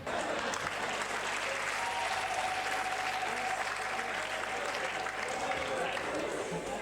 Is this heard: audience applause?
yes